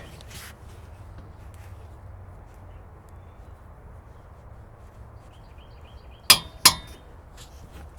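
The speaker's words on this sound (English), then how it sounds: "I have a torque wrench here, but it only goes up to 150. So I'll go ahead and take it to 150." A torque wrench tightens front wheel nuts on an F-150 to 150 foot-pounds, with quiet shop background followed by two sharp metallic clicks close together near the end.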